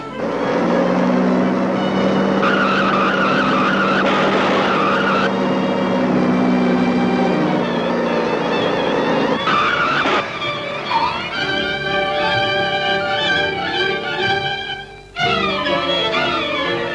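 A car in a 1956 Hindi film pulls away with tires squealing and skidding, the engine roaring loud and steady throughout while dramatic music swells over it.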